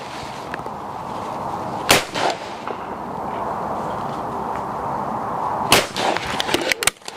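Two pairs of shotgun shots at a clay shooting ground, fired from a Browning XS Pro: a single sharp blast, then after a pause a quick cluster of loud reports, over steady outdoor background noise.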